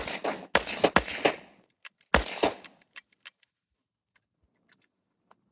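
Metal full moon clips drop into a revolver cylinder with bright jangling clatter, then the cylinder snaps shut, followed by a few small sharp clicks, close and loud.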